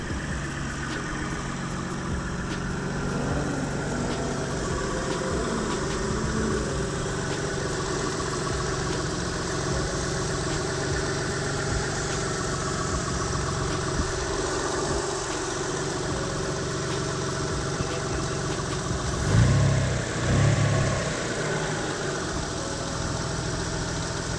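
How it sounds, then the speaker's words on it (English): A Mitsubishi 3000GT VR4 fitted with a GReddy blow-off valve idles steadily up close, a smooth low rumble with a faint whine on top, holding an even level apart from a couple of brief louder bumps near the end. "car's running, idling good"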